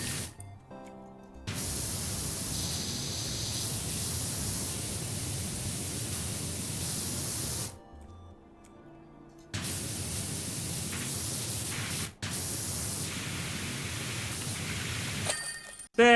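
A pressure washer sprays metal cleaner in PowerWash Simulator, a loud, steady close hiss in long stretches broken by brief pauses when the spray stops.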